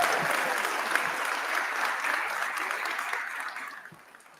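Round of applause from an audience of students at an honors convocation, steady dense clapping that fades out over the last second.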